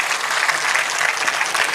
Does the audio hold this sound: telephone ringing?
no